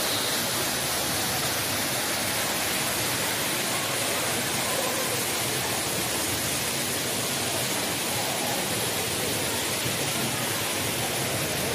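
Waterfalls at the Botanical Garden in Niagara Park, Ontario, make a steady, dense roar of rushing water that fills the whole stretch without pause or variation.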